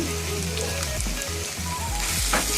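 Green masala hits minced keema frying in hot oil, giving a loud, steady sizzle and crackle close by with a few stirring clunks and no talk.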